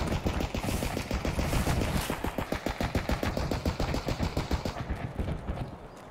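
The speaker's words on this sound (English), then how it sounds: "that's the thing shooting at dorms. That's a gun, right?" Rapid automatic gunfire in the shooter game Escape From Tarkov, a steady burst of loud, evenly spaced shots running for several seconds before tapering off.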